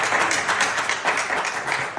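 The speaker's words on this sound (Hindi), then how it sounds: "तालियां मारो ताली।" People clapping together in a room, a brief stretch of brisk, uneven applause close by, with no clear talk over it.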